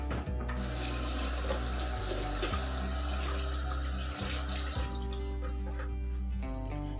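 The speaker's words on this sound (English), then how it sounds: "wash your hands" Steady running tap water splashing into a kitchen sink while hands are rinsed during meatball making, close and continuous with slight shifts as the hands move through the stream.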